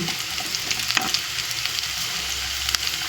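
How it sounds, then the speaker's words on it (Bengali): Cut potatoes frying in a pan, giving a loud, dense, continuous sizzle with a few scraping stirs, close up and with no voices. "এবারে আমি দেব কেটে রাখা আলুগুলো"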